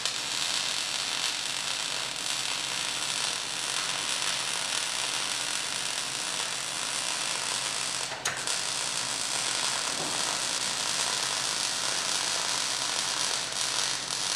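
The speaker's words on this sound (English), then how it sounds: "this is the new part now being welded in place" Welding a new front frame tube onto the chassis of a 1960 Mercedes-Benz 190SL under restoration, a steady loud crackling hiss running continuously near the microphone with one brief break, no voices.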